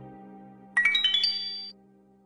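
A phone ringtone plays once, a bright rising electronic jingle of quick chiming notes lasting about a second over a low steady indoor hum, with no talking.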